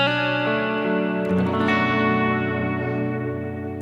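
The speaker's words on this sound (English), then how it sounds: "I always use a little bit with the reverb, and it just creates a nice wideness of the notes you play and chords" An electric guitar played through a heavier drive pedal with ambient reverb, sustained distorted chords and notes changing a few times and ringing out wide and washy, loud and alone without talk.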